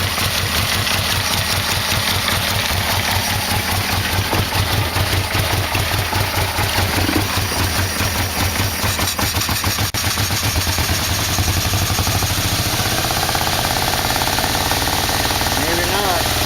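A Yamaha VMAX motorcycle engine runs rough and uneven, as if starved of fuel, with a loud, continuous clattering, chugging idle recorded close by. Voices talk over it.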